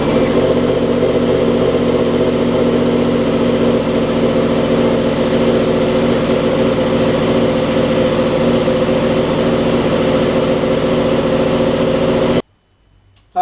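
A 2016 Yamaha R1M superbike with an Arrow Pro Race titanium exhaust idles steadily and loud, a dense continuous rumble with slight fluctuations that cuts off abruptly near the end.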